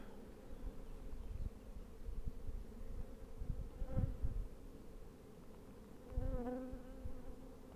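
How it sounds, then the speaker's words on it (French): Many honeybees hum in a dense, continuous drone close by in an open hive, with a few individual insects buzzing louder as they pass near. "Il y a beaucoup d'abeilles là-dedans"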